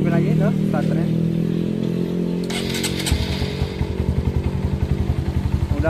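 Bored-up Honda CRF 150 motorcycle engine cranks and fires, settling into a fast, loud, close idle chatter of pulses; a voice talks over the start.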